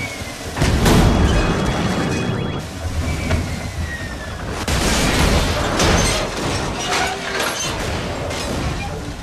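A shuttle struck by a pulse and crashing in Mass Effect 3: heavy booms, mechanical grinding and rattling impacts come in surges, loud and close, with a rough rumble in between.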